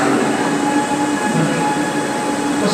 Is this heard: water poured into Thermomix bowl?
no